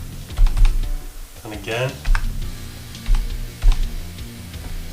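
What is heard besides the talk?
typing on a computer keyboard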